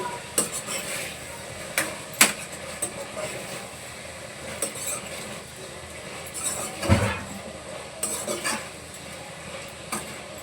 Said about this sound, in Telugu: ఇది బాగా మిక్స్ అయ్యేదాకైతే ఒకసారి కలిపేసుకొని మూట పెట్టేస్తాను